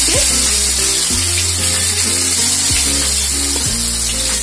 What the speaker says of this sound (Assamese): যেনেকৈ আমি বেঙেনা আলু ফ্ৰাই কৰোঁ ঠিক তেনেকৈ অলপ এইখিনি হাফ ফ্ৰাই কৰি লওঁ মছলাৰ লগত